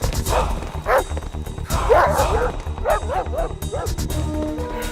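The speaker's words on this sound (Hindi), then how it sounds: "ये उनका पालतू कुत्ता है सर" A pet dog barks in a burst of repeated, fairly close barks with some yips during a raid at a house, over a busy background of movement and noise.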